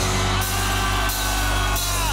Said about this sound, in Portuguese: Quem tá muito feliz, dá um grito aê!